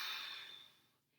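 A single soft, breathy exhale during a senior fitness bicep curl, close and gentle, trailing off into quiet.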